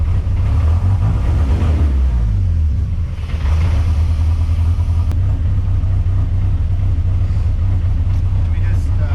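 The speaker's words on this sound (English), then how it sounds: "All right, giving a slow rev." A big-turbo 3.0L Mercruiser boat engine swapped into a Chevrolet S10, rumbling with a deep, steady low drone throughout as it is slowly revved and then eases back, loud and close.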